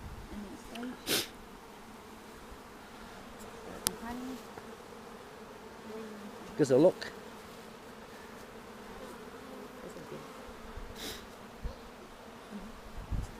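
Honey bees buzzing faintly and steadily around an open hive during a colony split, a soft continuous drone with occasional closer passes, under quiet speech from a beekeeper.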